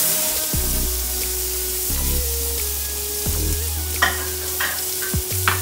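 Finely diced onions and garlic sweat in a hot oiled pan, giving a soft steady sizzle with a few scraping stirs near the end and a faint background hum.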